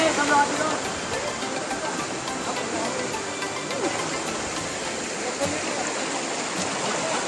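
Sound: Zenith waterfall at Lonavala

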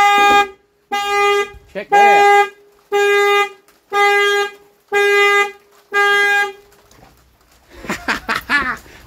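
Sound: car alarm sounding horn, Chrysler V8 Hemi

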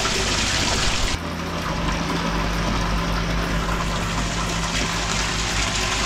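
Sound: pond pump circulating water in a koi fry tank

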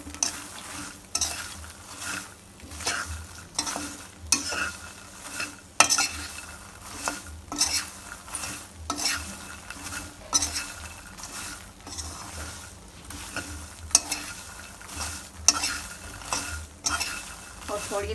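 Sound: stirring makhana (fox nuts) as they roast in a pan

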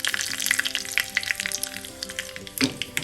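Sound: mustard seeds spluttering in hot oil, curry leaves added

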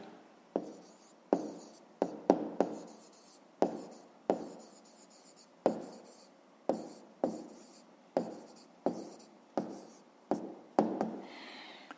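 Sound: writing on paper

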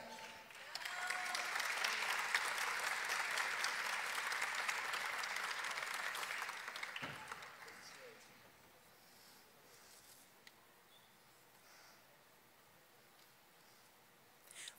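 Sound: applause at a graduation ceremony

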